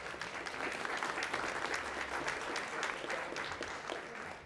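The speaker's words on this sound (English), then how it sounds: "give Norton a nice applause." Audience applause for a keynote speaker at an ACE Scholarships event, a dense, steady round of clapping from a fairly large crowd that holds throughout and tapers slightly at the end, with no talking over it.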